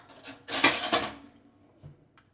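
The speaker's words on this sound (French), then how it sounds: "Je l'étale le beurre partout." A knife spreads butter over rolled dough for El Ghaïf, producing a short, close scraping and clinking burst that quickly fades to quiet.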